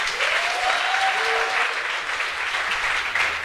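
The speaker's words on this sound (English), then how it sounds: "Can we just really clap like we don't care?" A crowd claps continuously, a dense steady patter of many hands, with a faint whistle rising briefly early on.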